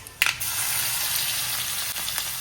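Crushed garlic drops into hot oil tempered with asafoetida, giving a steady close sizzle with a short burst of crackle near the start, holding level with no one talking.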